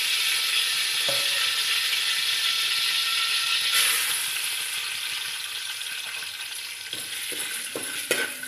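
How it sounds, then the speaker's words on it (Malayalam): Chana dal frying in ghee in the pan used for preparing sweetened flattened rice; a bright, steady sizzle that eases slightly, with scraping stir and clatter sounds near the end, no talk. "അവൽ വിളയിക്കാൻ എടുത്തു വച്ചിരിക്കുന്ന ഈ പാത്രത്തിൽ തന്നെ കടല ഒന്ന് നെയ്യിലേക്ക് വറുത്ത് കോരാൻ പോവുകയാണ്."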